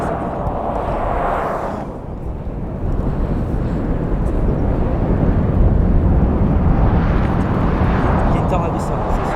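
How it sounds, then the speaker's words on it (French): A rain-wrapped multivortex tornado in Grady, May 2023, gives off a loud, continuous deep roar mixed with wind buffeting on the microphone, swelling and building steadily throughout. "c'est le bruit d'une tornade, c'est sûr."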